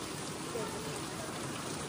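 Heavy rain falls hard and continuously during a Ganesh visarjan outing, a dense close hiss with no pauses.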